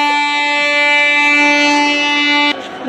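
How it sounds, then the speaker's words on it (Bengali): A train departing from Santragachi Junction, heard as a loud, sustained, steady horn-like tone close by that cuts off abruptly near the end. "তো দেখো ট্রেনটা ছেড়ে দিল"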